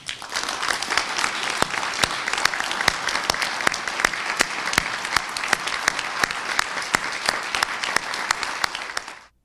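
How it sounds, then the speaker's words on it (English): A standing crowd at a county reorganization meeting applauds to honor Ken, a loud, continuous wash of many clapping hands with sharp individual claps on top, lasting about nine seconds before cutting off. "I would like all of us here tonight to stand for a round of applause to honor Ken's dedication to us"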